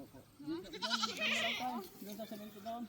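Goat bleating in short, wavering calls close by, mixed with people talking and louder noise in the background around a goat pen.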